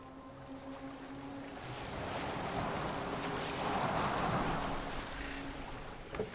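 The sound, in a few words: boat sailing on water in the video game Assassin's Creed Valhalla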